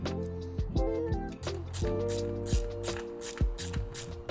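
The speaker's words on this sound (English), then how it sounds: "removing the 3 bolts that are already in your bike, Those are 4mm hex. So I've got a 4mm hex on a socket wrench." Socket wrench fitted with a 4mm hex bit ratchets bolts out of an electric bike frame, giving close, rapid clicking bursts in repeated strokes with brief pauses between them.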